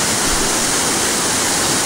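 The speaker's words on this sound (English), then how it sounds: "The water just bursting down into other waters, pounding and thrusting" Water thunders down a waterfall into the pool below, a dense, steady roar of pounding spray that stays loud and unbroken throughout, with no voices.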